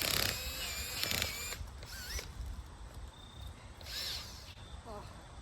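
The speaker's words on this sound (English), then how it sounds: "my drill's gonna die" A cordless power drill whirs in short, uneven bursts outdoors in a native plant garden, laboring and weakening as its battery runs down, with faint background sounds between the bursts.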